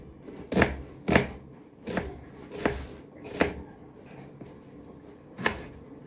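Onion finely chopped with a knife on a board, about seven sharp, close knocks at an uneven, unhurried pace with quiet pauses between them.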